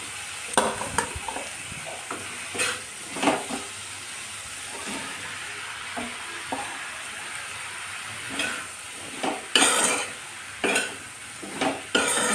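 Ridge gourd goes into a hot pan with tomato and is stirred, giving a steady sizzle and frying hiss broken by repeated scrapes and clinks of a spatula against the pan.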